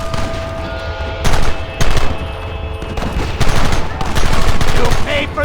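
Gunfire in the Western video game Red Dead Redemption: a loud shootout with repeated shots cracking out in uneven bursts over a busy, noisy backdrop.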